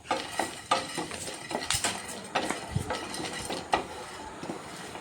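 Chana dal is stirred in a heating pan: faint, intermittent scraping and light metallic clinks of a spoon against the pan, with soft rattles of the dry lentils.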